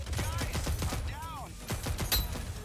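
A gun fires in the video game Rogue Company, giving a run of sharp, evenly spaced shots at a slow rate over game noise, with a brief whistling effect in the middle.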